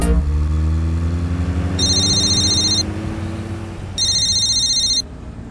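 A phone rings inside a small car, two bright electronic ring bursts about two seconds apart over a steady, loud engine hum.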